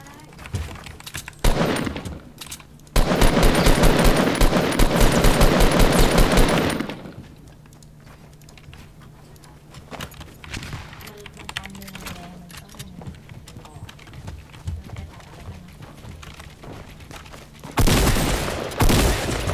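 Bursts of automatic gunfire from a Fortnite match, a dense loud rapid rattle for several seconds, then scattered quieter shots and game noise, and another loud burst near the end.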